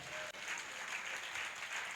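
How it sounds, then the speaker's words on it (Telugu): A church congregation at a Sunday service claps steadily and loudly for about two seconds. "చప్పట్లు కొట్టాం,"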